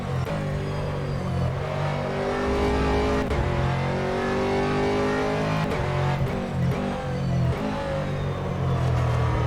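Aston Martin GT3 race car in rFactor 2 at Imola, a loud close engine note rising and falling through gear changes as it brakes and accelerates around a steep uphill hairpin, with brief shift cuts.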